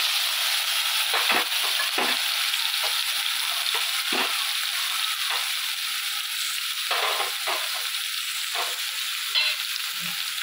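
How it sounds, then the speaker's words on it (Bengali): Small prawns fry in hot oil in a wok (kadai) for a prawn and onion-stalk chorchori, giving a steady, close hiss of sizzling broken by short scraping stirs, with no voices. "ছোটো চিংড়ি মাছ হালকা ভাজলেই হবে"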